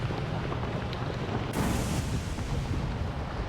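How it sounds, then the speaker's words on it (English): An egg blows up in a video game with a sudden loud burst partway through, set against a constant rumbling background of booms and crackles. "The egg's going to explode."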